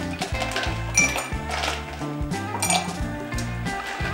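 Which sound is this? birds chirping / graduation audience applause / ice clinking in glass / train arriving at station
ice clinking in glass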